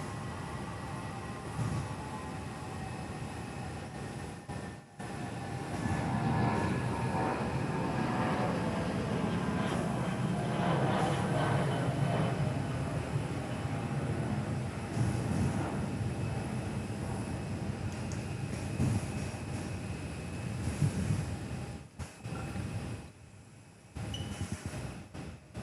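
At Perth Airport an Airbus A319 bound for Broome produces a moderate, somewhat distant jet rumble with a rising whine. It swells after a brief quiet gap and fades near the end.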